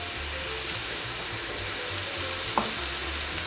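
Ground beef sizzles in a pan with tomato and broccoli, a steady close crackle of frying with a soft clink or stir partway through, no voices over it.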